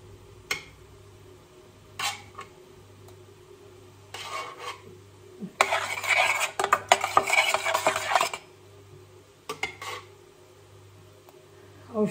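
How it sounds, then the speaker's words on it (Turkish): Spoon scraping and clinking in a bowl while strained yogurt and plain yogurt are stirred together in a village kitchen, with several bursts of brisk stirring and a steady low hum underneath. "4-5 yemek kaşığı da normal yoğurttan karıştırıyoruz."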